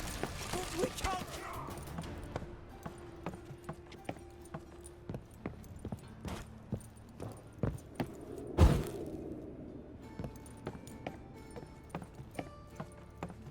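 Horse hooves clip-clop at speed during a chase in The Witcher 3, a quiet, rhythmic series of hoofbeats with a sharp bang partway through.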